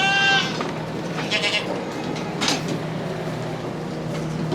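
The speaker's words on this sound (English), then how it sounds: "we'll check on the goats here too" Pregnant goats on a farm bleat close by, with a loud cry at the start followed by a few shorter bleats over a steady low background hum.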